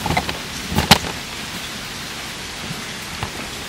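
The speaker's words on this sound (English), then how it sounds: "You might hear rain." Rain falls steadily outside a home warehouse, a constant hiss of drops on a surface with a few sharper close taps near the start.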